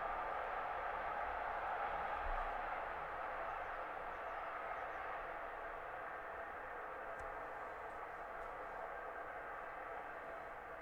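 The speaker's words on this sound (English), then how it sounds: "I'm sorry if that there's a train going by." A steady, muffled rumble of a train rolling past at a distance continues for about ten seconds, fairly quiet and unchanging.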